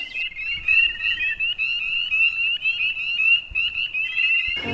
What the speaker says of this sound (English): it creates a really nice habitat for a lot of amphibians, frogs. You can hear them at night.